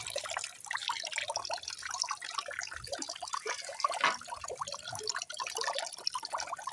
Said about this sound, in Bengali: পালং সে বঠুয়া সবগুলো ধুয়ে নিচ্ছি তিন চার ধোয়া দিচ্ছি